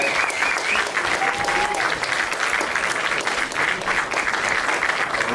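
A comedy show audience applauds their host, Tony Smart, in dense, sustained clapping that fills the room at a steady loud level throughout.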